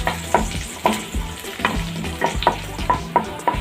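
Dried red chillies stirred and sautéed in a hot pan, with a steady low sizzle and a regular rhythm of scraping spoon strokes, about one every half second, close up and with no voices.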